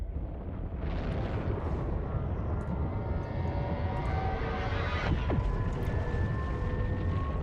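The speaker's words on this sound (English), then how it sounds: "I think the sound glitched, like I'm flying in the warp." A steady, loud roaring rush of warp flight in the space game EVE Online, a dense whooshing drone with a tonal sweep near the end, holding without a break and with no talk.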